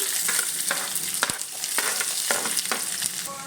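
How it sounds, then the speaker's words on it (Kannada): Sliced onions frying in oil with garlic, a dense steady crackle and sizzle punctuated by repeated scraping strokes of a spatula stirring the pan, close and without talk. "ಅದಕ್ಕೊಂದು 3 ಈರುಳ್ಳಿ ಕಟ್ ಮಾಡ್ಕೊಂಡ್ರೆ ಅಂತ ಈರುಳ್ಳಿ ಫ್ರೈ ಮಾಡ್ಕೊಳ್ಳಿ."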